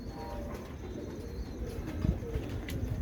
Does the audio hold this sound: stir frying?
no